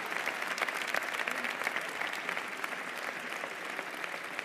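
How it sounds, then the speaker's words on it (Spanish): Dense, steady applause from a large crowd at a Vox political rally presenting candidates for Aragón, loud and continuous throughout without a break. "Para todos ellos pido un fuerte aplauso."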